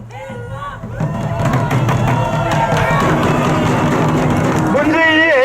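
A large crowd at a Korean Taegukgi patriotic rally jeers and boos loudly, a dense roar of many voices that swells after the first second and holds steady, with shouts rising over the din.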